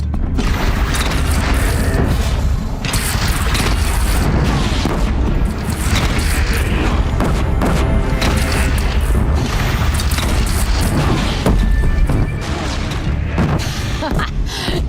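Cannon fire and heavy booming blasts from a battle in Horizon Zero Dawn, loud and continuous with dense crashing explosions and clatter throughout, some shouting mixed in.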